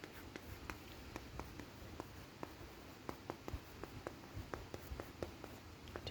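Pen or marker writing words onto a surface in a quiet room, faint repeated scratchy strokes and taps spaced irregularly, with no talking.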